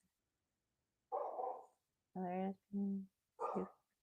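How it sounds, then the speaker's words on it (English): Dogs barking at home, a few short separate barks that sound fairly faint, with a brief bit of talk nearby. "Oh, sorry, my dogs are barking."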